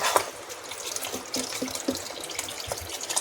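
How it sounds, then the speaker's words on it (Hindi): Water is poured into chicken nihari masala frying in oil, giving a soft, continuous splashing pour with a few small drips and sizzles. "अब इसमें डाल देंगे पानी"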